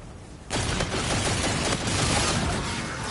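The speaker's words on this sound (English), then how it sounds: "I did a charge shot." A legendary G-Rail firing a charge shot in a shooter game: a sharp loud onset followed by a sustained crackling barrage of rapid shots and bursts.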